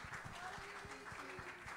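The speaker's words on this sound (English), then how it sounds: "Can we give the Lord another good hand clap in Jesus' name this morning?" A church congregation claps hands at a Sunday morning service, a rough, fairly distant patter of many hands heard faintly, with voices mixed in.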